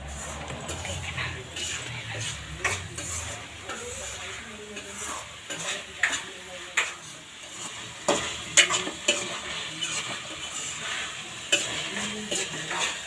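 Kadai paneer fries and gets stirred in a pan, with repeated spoon scrapes and taps against the metal over a low sizzle, nearby and moderately loud, and faint voices in the kitchen.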